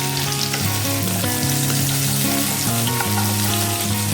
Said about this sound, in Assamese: এতিয়া গেছত কেৰাহীটো পাতি তাত মিঠাতেল গৰম কৰি মই প্ৰথমতে পিঁয়াজখিনি অকণমান ফ্ৰাই কৰি লৈছোঁ